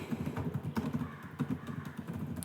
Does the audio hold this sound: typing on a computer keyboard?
yes